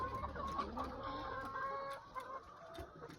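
Quiet clucking from a few chickens, soft and close, with short murmuring calls overlapping against a faint background.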